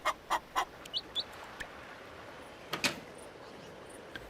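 Chickens in the farming video game Moonlight Peaks, a blue chicken among them, cluck in a quick run of five short calls, then a single louder squawk after a pause, over a low steady background hum.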